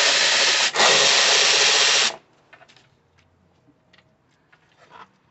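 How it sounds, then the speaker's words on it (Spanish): A power tool whirs loudly for about two seconds, pausing briefly, while removing 10 mm screws from the engine cover of a 2011 Nissan Sentra 2.0, followed by faint clicks and handling sounds. "Vamos a quitar estos tornillos dieces."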